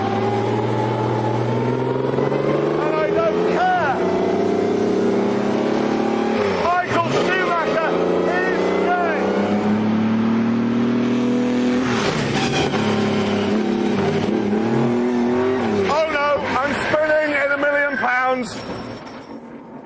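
A high-revving Maserati sports car engine roars and climbs repeatedly through the gears, loud and close, with a voice over it.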